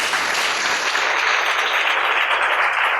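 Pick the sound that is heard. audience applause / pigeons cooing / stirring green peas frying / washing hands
audience applause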